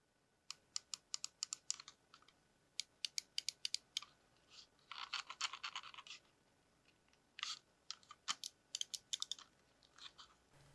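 A Razer Viper Ultimate computer mouse gives quiet, crisp button clicks, close and isolated, in quick bursts and pairs separated by short pauses, with a brief scraping rattle partway through.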